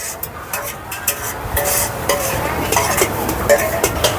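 Busy clatter of a spatula scraping a wok while stir-frying noodles, over a loud, steady sizzle, with quick irregular metallic taps throughout.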